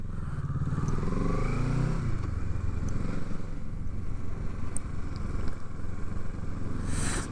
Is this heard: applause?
no